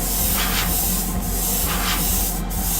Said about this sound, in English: I'm spraying this, trying to keep what they call a wet edge, which basically means overlapping it.